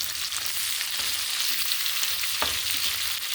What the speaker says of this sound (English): I throw the shrimp in there just to get it a little bit cooked off for the mix, and mix that in with the bacon